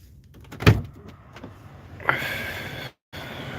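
A car door is opened from inside a parked car with the ignition off, giving a sharp thunk of the handle and latch followed by a swelling rush of outside air and a brief cut of silence.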